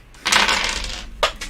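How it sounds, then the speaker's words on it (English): Dice dropping and tumbling under a desk during a tabletop game session, giving a brief rattling clatter followed by a second sharp knock a moment later. "I have to re-roll some dice that just went under my desk"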